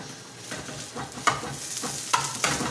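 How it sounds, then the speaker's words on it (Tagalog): Rice is stir-fried in a pan with spicy sausage: a continuous sizzle and frying hiss with repeated scraping stir strokes from a utensil, close and moderately loud, with no talking. "Tapos, okay, lalagyan na natin itong rice."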